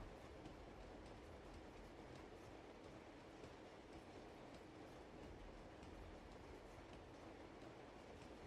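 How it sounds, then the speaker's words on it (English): A train rolls steadily along rails in the video game Uncharted 2, a continuous dense rumble with faint rhythmic clicking of wheels, no voices. "we have to wait for the train to go around on a loop"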